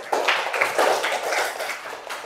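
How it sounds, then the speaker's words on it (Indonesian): Schoolchildren in a classroom clap for a classmate, a short scattered burst of small hands, fairly close and moderately loud, fading out after a couple of seconds. "kasih tepuk tangan untuk Alin ya."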